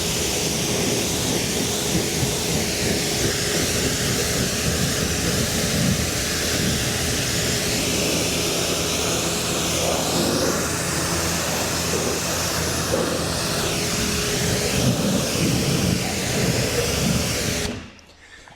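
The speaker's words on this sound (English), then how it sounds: "make sure your pressure washer is ready to go" A pressure washer hisses steadily as it rinses a car, a loud unbroken spray roar that holds for most of the time and cuts off abruptly at the end.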